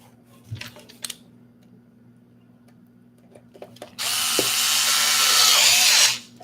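A power screwdriver drives screws into a cyberdeck during assembly, a steady high whir lasting about two seconds near the end after a few quiet clicks and handling taps, close and clear.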